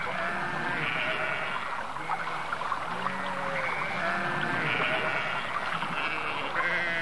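A flock of sheep bleating continuously, many overlapping calls rising and falling together with no one voice standing out.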